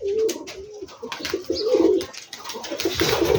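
Rajshahi Giribaj pigeons coo in repeated soft, throaty bursts close by, with rustling and faint chirps between the calls.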